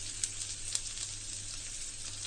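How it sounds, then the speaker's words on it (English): Finely chopped onions fry in hot oil in a pan for pizza sauce, giving a steady, fairly quiet sizzle with a couple of sharp pops near the start. "Heat oil in a pan. To this, I am going to add finely chopped onions."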